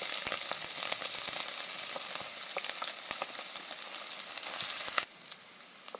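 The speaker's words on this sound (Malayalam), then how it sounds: "കറിവേപ്പില തൊന്നിളക്കിയതിന് ശേഷം കൊത്തി അരിഞ്ഞു വെച്ചിരുന്ന ഇഞ്ചി ഇട്ട് കൊടുക്കാം" Curry leaves and chopped ginger fry in hot oil with a steady, close crackling sizzle and sharp pops that drop to a quieter hiss near the end, with no talking.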